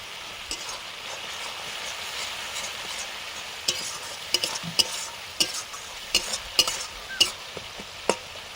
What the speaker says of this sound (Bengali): অল্প জল দিয়ে মশলাটা কষে নিচ্ছি।